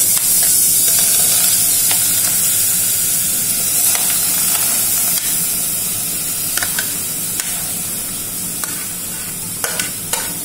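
Pineapple pieces hit a hot pan while making a pineapple biscuit pudding, giving a steady, fairly loud sizzle and hiss that eases slightly over time, with a few small clicks near the end and no talking.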